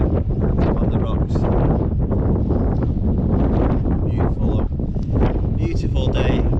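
Strong, steady wind buffets the microphone throughout, a constant low roar with gusty rustling near and loud, on coastal rocks on Anglesey.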